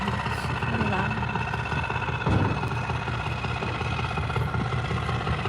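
A truck engine rumbles steadily at a launch site, its low, helicopter-like drone continuous throughout with a brief louder swell midway.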